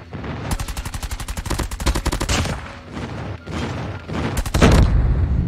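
Rapid automatic fire from the Chopper light machine gun in Call of Duty Mobile, loud close bursts of densely spaced shots with brief gaps between several long volleys.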